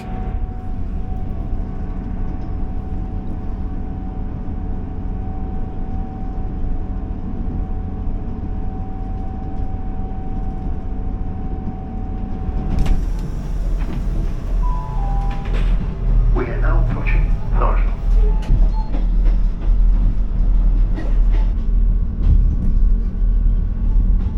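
A low, steady rumble of a train running on the Far North Line to Thurso, Scotland, with a sustained hum, then louder rattling and clanking as the ride grows rougher.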